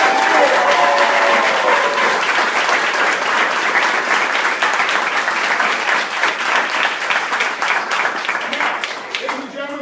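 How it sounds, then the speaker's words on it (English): Loud, dense crowd applause for five-time heavyweight champion Evander Holyfield at the Gene Lewis Boxing Club in Mesa, steady and close throughout with a few cheers mixed in. "one more quick round of applause"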